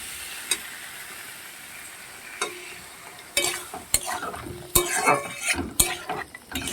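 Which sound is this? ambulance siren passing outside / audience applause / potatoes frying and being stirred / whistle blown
potatoes frying and being stirred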